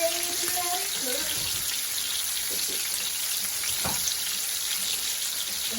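Chicken for chicken Alfredo cooking in a pan, giving a steady, close, continuous sizzling hiss throughout, with faint tonal sounds early on.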